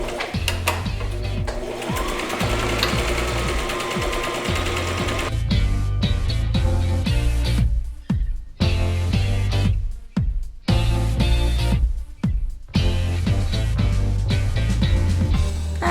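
A sewing machine stitching a tulle tutu waistband an inch from the fold, running in loud, fast bursts with short pauses between runs, close by and without talk.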